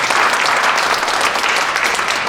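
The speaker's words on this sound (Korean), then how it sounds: "이 모든 것을 먼저 제가 박수로도 한번 자축하는" Dense, continuous applause from an audience at a church-style gathering, loud and close, with no pauses across its short span.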